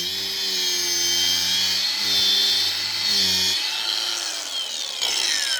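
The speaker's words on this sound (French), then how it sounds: "La meuleuse, moins d'efforts, plus rapide." An angle grinder cuts through stakes outdoors in a forest during January, giving a loud, steady high-pitched whine that rises and dips as it bites the material, with a lower droning hum under it and no talk.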